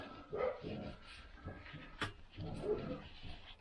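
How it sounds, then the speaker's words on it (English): Neighbouring dogs in a yard next door bark and whimper, several muffled barks and yelps coming at uneven intervals from a short distance, faint against a quiet workshop background. "Apologise for next door's dogs, but they've got a right to be in their yard."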